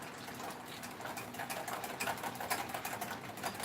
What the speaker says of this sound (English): Then take my whisk, mix that up really well.